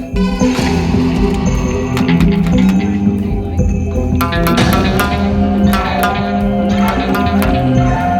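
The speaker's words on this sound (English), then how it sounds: "Some synthesizer stuff." Layered synthesizer parts fill a studio song production, dense sustained tones with echoing, reverberant plucked accents ringing over them at a steady loud level, no voices.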